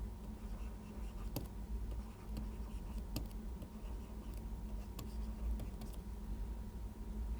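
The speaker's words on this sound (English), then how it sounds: "I will write the statement, then we will explain." Marker or chalk writing a statement on a board during an economics lecture, heard as scattered light scratches and taps under a steady room hum, with no talking.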